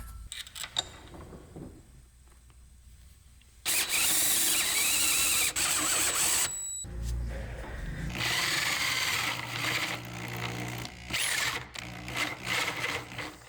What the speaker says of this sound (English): So I'm just drilling these out to make them a little bit bigger with this step bit